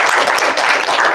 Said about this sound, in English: we owe him a round of applause too